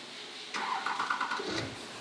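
A Hummer H1 Alpha engine cranks and catches after a quiet moment, remote-started, a brief starter whir followed by the motor settling into a low idle, fairly close.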